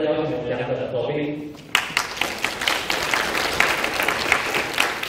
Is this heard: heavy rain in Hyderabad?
no